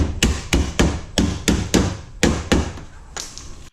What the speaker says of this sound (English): They're chisels you can hit with a framing hammer, as you see me doing here.